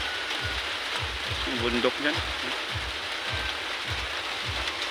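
Rain falls on a muddy rural road by fields in the Philippines, a soft, steady hiss heard under a voice speaking, with rhythmic low thumps pulsing beneath.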